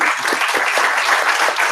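Steady audience applause fills a conference hall, dense and continuous from many hands throughout, with no individual claps standing out.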